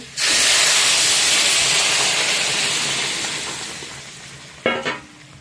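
Vegetables drop into hot oil with fried onions, setting off a loud, steady sizzle and hiss that gradually fades, followed near the end by a brief clatter from a utensil.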